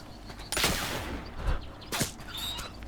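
Gunshots fired while hunting a rabbit in The Oregon Trail video game: two sharp, loud reports about a second and a half apart, with faint game ambience between them.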